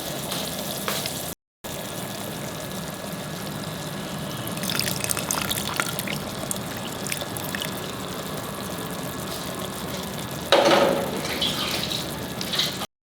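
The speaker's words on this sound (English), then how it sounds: "I can put in some more water in the pulp." Water pours and trickles into tamarind pulp in a pan over a steady low sizzle, with a brief louder splash near the end and no talking.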